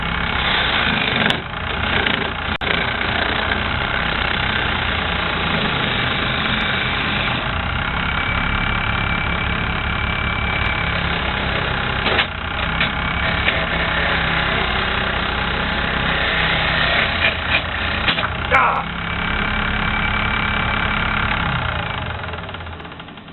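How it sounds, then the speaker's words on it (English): A wood-turning gouge is sharpened freehand against a spinning bench grinder, a loud steady grinding whine running continuously throughout with brief sharper scrapes as the tool meets the wheel. "I do this freehand on a grinder because I don't have any adapters or anything like that"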